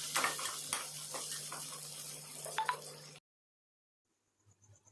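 Green chillies and browned onions fry in a pan, a soft steady sizzle broken by scraping strokes of a spoon, before the sound cuts off into near silence.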